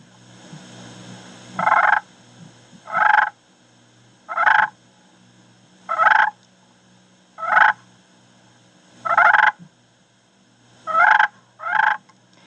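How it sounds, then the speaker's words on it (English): Soft rolling turkey purrs on a slate call, eight or so short raspy bursts spaced about a second apart, close and clear with no talking. "To purr on a slate call, you want to use light pressure because it's a soft call."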